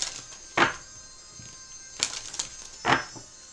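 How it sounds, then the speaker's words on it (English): A dark mirror card deck being shuffled by hand, three distinct riffling bursts with papery snaps between them, close and moderately loud over a faint background hum, with no talking. "we're going to shuffle the dark mirror and see what the supporting energy is"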